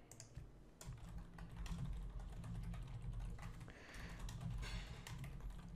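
A message is typed on a computer keyboard in a quick, quiet run of clicking keystrokes over a low background hum, with no voices.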